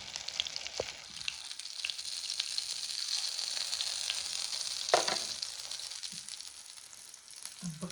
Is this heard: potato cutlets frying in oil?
yes